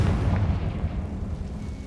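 A heavy, rumbling blast from the Confringo fire spell in Hogwarts Legacy, loud and booming with a rolling low-end roar.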